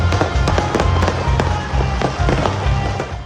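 Fireworks display at a University of Santo Tomas Baccalaureate Mass, with repeated sharp bursts and crackles over a steady rumble, dense and loud throughout with music faintly underneath.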